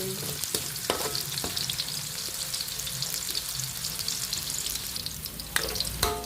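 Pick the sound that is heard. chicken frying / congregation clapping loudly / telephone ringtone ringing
chicken frying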